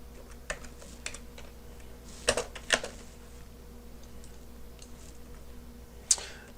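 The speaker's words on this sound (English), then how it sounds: "And I can just type in my code and run it." Someone types Python code on a computer keyboard, producing sparse, light key clicks with a few louder taps in between, close by against a quiet room hum.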